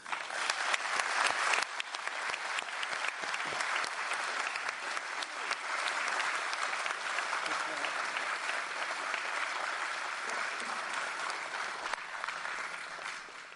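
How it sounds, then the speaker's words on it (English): Sustained warm applause from delegates at the World Heritage Committee session, dense and steady clapping throughout, slightly fading toward the end. "I would like that we all give her a warm round of applause"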